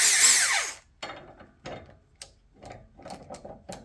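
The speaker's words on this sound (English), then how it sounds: "We're going to try and hit it with the impact wrench and see what gives first" An impact wrench hammers at a stuck pulley on a Honda GX390 engine: one loud sustained burst, then a run of short, sharp rattling bursts with brief gaps in between.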